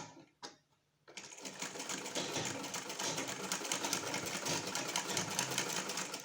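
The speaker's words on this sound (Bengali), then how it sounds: "প্রথমে আমি গলা সেলাই করব," An electric sewing machine stitches the neckline of a child's frock, starting with a couple of short taps and then running in a steady, fast, close whirring chatter for several seconds without talk.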